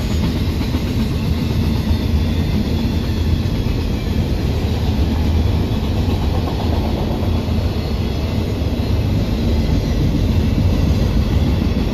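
A loaded freight train on the Harrisburg Line rolls past close by, a loud, steady rumble of rail cars with rhythmic clickety-clack from the wheels that lasts throughout with no voices.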